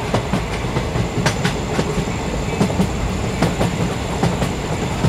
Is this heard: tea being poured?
no